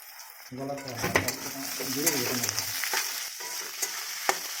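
Chopped onions fry in hot oil for a Bengali-style chicken and potato curry, a steady close sizzle broken by sharp stirring scrapes and pan clinks, with a voice briefly heard over it early on.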